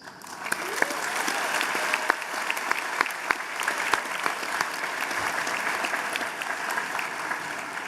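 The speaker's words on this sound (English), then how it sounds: "let's give a collective round of applause to congratulate our peers at all the other Hult campuses" A large audience claps together at a business school MBA graduation ceremony in London, sustained applause with some sharp individual claps standing out near the front.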